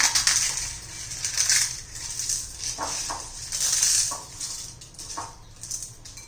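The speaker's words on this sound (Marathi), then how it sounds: "आपण जे पापड भाजून घेतले आहेत ना त्याचा पुरा करायचा" Roasted papad being crushed into small pieces in a bowl for a crispy papad chutney, giving a close, dry crackling and crunching that comes in several bursts with no talk.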